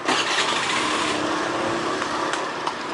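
A Honda Zoomer-X scooter engine is running after being started, a steady close mid-pitched engine drone that holds throughout with slight fluctuations.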